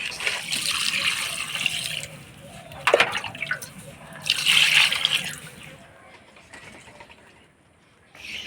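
Water runs and splashes over a large fish head being washed and rubbed clean with salt in a kitchen sink, with uneven pouring, bursts of louder splashing and faint dripping, then a quieter stretch near the end.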